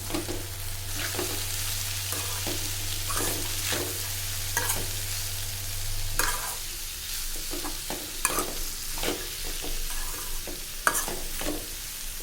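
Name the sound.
stirring dal curry together in a pan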